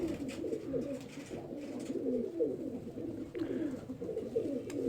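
Teddy pigeons cooing up close, a low, soft burbling coo repeating in overlapping phrases, fairly quiet and steady with no talk.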